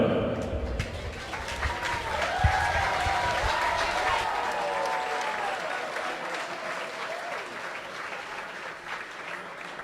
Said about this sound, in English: you have already given a big round of applause